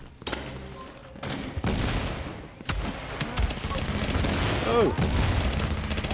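Loud bursts of automatic gunfire from The Division Resistance during a boss fight, rattling in close succession with booming impacts, while a man briefly exclaims over the shooting.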